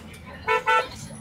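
Two short car horn honks sound close by amid busy street traffic in a crowded town, over a low steady road hum.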